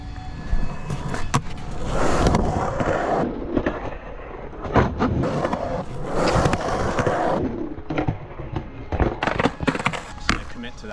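Skateboard wheels rolling and rumbling on a ramp, punctuated by sharp clacks and knocks as the board hits coping and deck, fairly loud and near, with people talking now and then.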